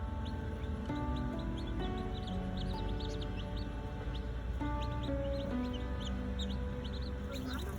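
A backyard flock of chickens clucks and murmurs continuously at moderate distance, with soft overlapping calls and occasional chirps over a steady outdoor hum.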